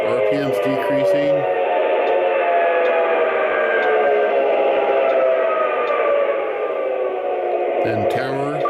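An Atlas 3 Rail Santa Fe F7 model locomotive's engine sound plays as a loud, continuous tonal drone that shifts in pitch as the RPMs change, with short bursts of talk at the beginning and end.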